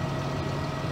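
Monotonous combine harvester and tractor engine drone in Farming Simulator 2009, a steady low idling hum with no variation, continuous and fairly quiet.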